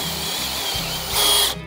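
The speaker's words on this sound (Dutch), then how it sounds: "Die boor ik eerst even een stukje voor." A power drill whirs steadily, pre-drilling wood for 6x200 screws nearby, its pitch rising briefly as it bites harder before the motor cuts off.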